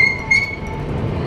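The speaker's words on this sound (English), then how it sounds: "Sekarang kita naik metro." Istanbul metro train riding along the tracks, a steady loud low rumble with a brief high wheel squeal, heard from inside the carriage.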